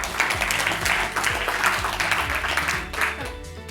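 Audience applause for four entrepreneur nominees at a female entrepreneurship event, a steady patter of many hands clapping at moderate volume throughout, with faint voices underneath.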